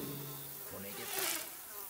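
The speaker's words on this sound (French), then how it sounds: "je vais envoyer des mouches partout" Flies swarm with a continuous, dense droning buzz that swells briefly in the middle, with no voices over it.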